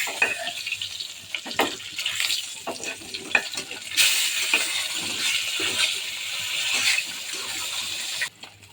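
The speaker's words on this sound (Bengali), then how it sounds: "আর আমি শিং মাছ ভাজতে দিয়ে দিয়েছি।" Shing fish (stinging catfish) frying in hot oil in a home kitchen, a steady loud sizzle with crackling spits and scraping stirs, swelling stronger midway and cutting off near the end, with no talking.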